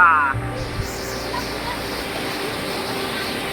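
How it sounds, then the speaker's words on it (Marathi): A big waterfall beside a temple, heard as a continuous broad roar of rushing water that stays steady and fills the scene, with a brief faint tone near the start. "आज पहिला छोटा धबधबा आणि हा आपला मोठा धबधबा"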